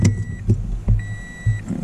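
A 2015 Toyota RAV4 is switched on, giving several short low thumps and clicks with a faint steady electronic tone running through, all close and fairly loud with no talking.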